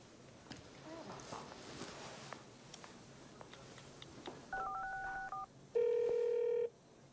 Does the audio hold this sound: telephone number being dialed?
yes